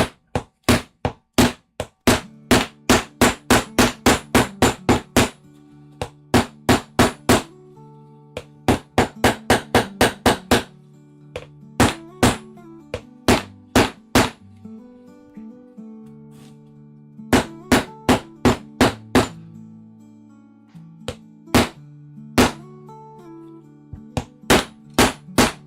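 Leather boot heel struck repeatedly with a hammer on a small anvil, sharp metallic clanging blows in quick bursts of several strikes, separated by short pauses, loud and close.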